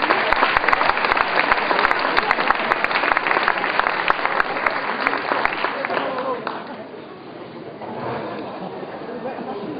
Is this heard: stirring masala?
no